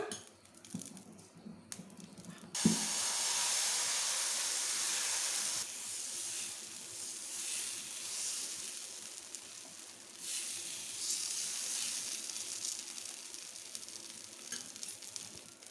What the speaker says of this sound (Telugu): దోశ పెనం హీట్ ఎక్కింది ఇప్పుడు దోశ వేసుకుందాం